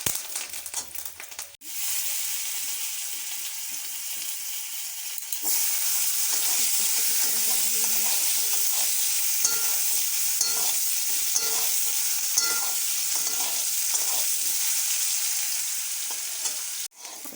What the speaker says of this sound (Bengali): একটু সামান্য জিরে ফোড়ন দিলাম